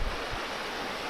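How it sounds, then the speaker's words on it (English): A creek of clear water flows close by on a rainy hiking route, a brief, dense, steady rush of water with no voices. "And now this beautiful area with the creek. I love it. Such a clear water"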